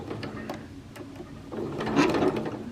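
Home sewing machine back stitching a 5/8-inch sleeve seam on a garment, a close mechanical whirring stitch rhythm that briefly pauses and then runs louder and faster for about a second, with no talking.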